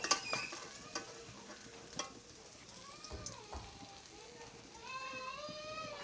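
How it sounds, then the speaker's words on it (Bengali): Pieces of fried local koi fish are lifted out of hot oil in a pan, with a faint sizzle and a few scraping clinks of a utensil. Speech runs intermittently through it. "এই মাছ ভাজাগুলো উঠানো হচ্ছে।"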